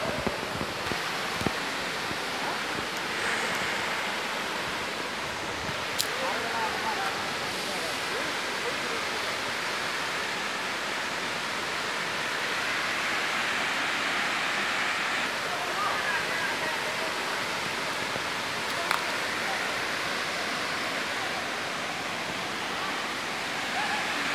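Komoldoho waterfall at Sitakunda, Chittagong, pouring as a constant broadband rush of falling water, close and steady throughout, with a voice or two faintly heard over it at times.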